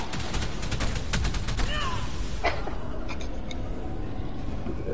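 Rapid gunfire rattles in Ark as a grappled creature is shot, dense repeated shots early on that thin out, with game noise underneath.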